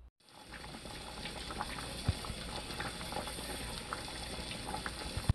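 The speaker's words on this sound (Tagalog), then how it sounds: "papakuluan ko na yung aking munggo" Mung beans boil in a pot with a steady bubbling, gurgling roil that holds at an even, fairly loud level throughout, with a couple of sharper pops near the middle and end.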